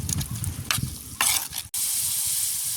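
Onions and chillies cook in a village curry pot, giving bursts of sizzling and stirring scrapes close up, then a sudden break followed by a steady hiss of bubbling.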